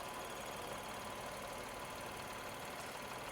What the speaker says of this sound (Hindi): गाड़ी तो मैंने स्टार्ट कर दी है और भाई गाड़ी इस टाइम आइडियल पे है।